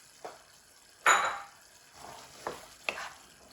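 Boiled chickpeas tipped into a cooking pot for pilaf, followed by a few soft scrapes and stirs of a spoon against the metal, quiet and close with short gaps between strokes.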